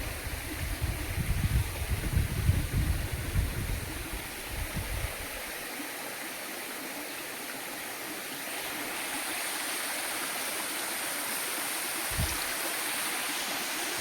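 Byrappa Falls at Kuruvinakoppa roars in a constant broad rush of falling water, with low gusty rumbles in the first few seconds.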